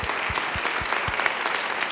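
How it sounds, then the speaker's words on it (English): An audience applauds at the close of a public astronomy lecture in a hall, a steady wash of many hands clapping at even loudness throughout with a few sharper individual claps standing out. "Let's give Marcia a round of applause"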